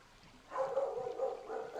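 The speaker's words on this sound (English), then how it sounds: "Sorry about my dog. Loud as all" A pet dog barking in a room, a couple of loud close yaps in quick succession after a quiet start.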